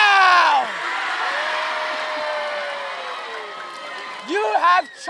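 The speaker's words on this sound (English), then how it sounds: "If you think that they should keep walking in circles, clap now." Crowd at an opening campfire at Camp Hi-Sierra breaks into a steady wash of clapping and cheering for a few seconds, with whistle-like whoops at the start and voices rising again at the end.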